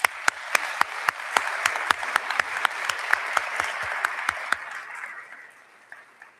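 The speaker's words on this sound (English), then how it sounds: "I would like you to join me, please, in a round of applause for the Political Science Department" An audience claps at a college event celebrating the Declaration of Independence, a sparse round of distinct, fairly regular claps that thins and fades out over the last seconds.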